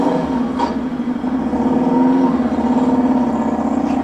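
A recorded Harley motorcycle engine rumbles out of a sculpture built from Porsche parts inside an auto museum, a steady mid-pitched drone at moderate loudness.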